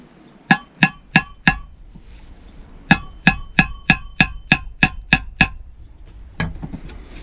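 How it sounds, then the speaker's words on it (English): Hammer striking a motorcycle silencer during a repair, giving sharp metallic clanks close up. Four quick blows come first, then a run of about eight evenly spaced hits, then one last knock. "Keep hitting it with a hammer."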